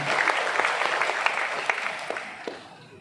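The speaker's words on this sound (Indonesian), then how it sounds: "Aplaus ya, buat teman-teman ya" Audience applause at a scouting association leader's speech in Bogor Regency, a steady burst of clapping with sharp individual claps standing out, fairly close and lasting the whole stretch.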